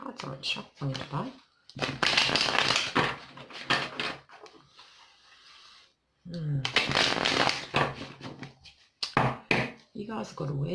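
Tarot cards are shuffled in quick bursts of crisp riffling and slapping, close and clear, with pauses between rounds while someone talks softly.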